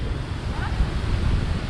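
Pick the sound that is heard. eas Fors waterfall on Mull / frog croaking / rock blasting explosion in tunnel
eas Fors waterfall on Mull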